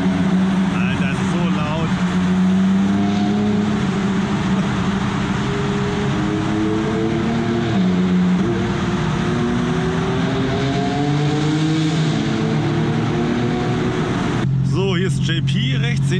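A BMW M4 G-Power with an Akrapovic exhaust drives with a loud, deep engine note that rises and falls through revs and gear changes, heard from close by under steady talk.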